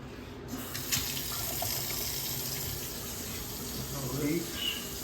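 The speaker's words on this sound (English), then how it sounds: "Faucet's looking good." Kitchen sink faucet runs in a steady broadband rush of water for the whole stretch, moderately close, with a brief voice or clatter near the start and no clear speech.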